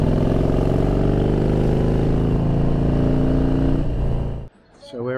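A motorcycle engine hums loudly and steadily as the bike rides along a twisty road in southern Thailand, its pitch drifting with speed, then cuts off abruptly near the end.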